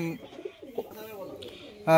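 A Teddy and Kalshira cross pigeon gives a few soft, close coos with short warbling rises, under a man's speech.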